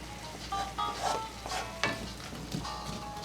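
Browning ground meat with garlic and onion is tossed in a hot pan, a soft continuous sizzle broken by several scraping, shuffling stirs, close and fairly quiet, with no voices.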